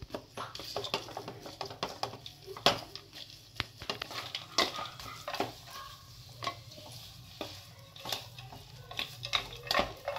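Ground dates blended with walnuts, cashews and almonds being stirred together in a pan, a steady run of soft scraping and clinking strokes with occasional sharper knocks, close and moderately quiet.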